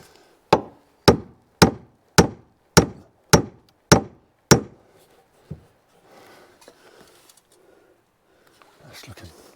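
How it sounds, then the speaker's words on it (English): Nine evenly spaced, sharp hammer blows strike the end of a board during stone barn gable renovation work, loud and close in steady rhythm, followed by a single softer knock and then low shuffling. "Just going to hammer this back end in a bit to get it a little more level"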